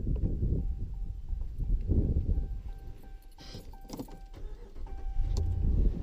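A truck engine idles after being started, a steady low rumble running throughout with a few small clicks and clatters over it.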